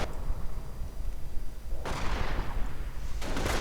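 Sustained gunfire and explosions roll through a World War II real-time strategy battle as a Volkswagen vehicle comes under fire. Loud, dense bursts of shots and blasts overlap, with sharp new volleys about two seconds in and again near the end.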